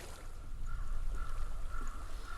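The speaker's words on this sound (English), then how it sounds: "I hear water." Flowing water in the video game Hellblade: Senua's Sacrifice makes a faint, steady rushing murmur with a low rumble, continuous and alone without talk.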